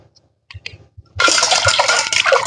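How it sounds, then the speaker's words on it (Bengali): Running water pours steadily over two guavas being washed by hand before cutting, starting abruptly after a few soft taps and continuing loud and close. "কাটার আগে পেয়ারা দুটো ভালো করে ধুয়ে নেব।"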